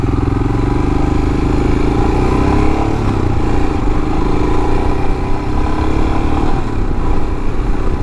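A Royal Enfield Himalayan motorcycle accelerates on a main road, its single engine note loud and close, rising in pitch as it pulls steadily through the full stretch with continuous rumble and wind.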